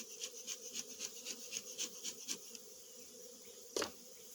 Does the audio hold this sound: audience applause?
no